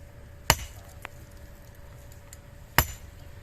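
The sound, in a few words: hammer striking rock to break it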